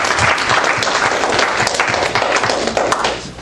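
A church congregation claps heartily during a morning service, a loud, dense round of applause that holds steady and then tapers off toward the end.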